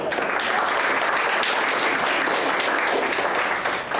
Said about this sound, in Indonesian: terima kasih Stanley untuk kesimpulannya, berikan tepuk tangan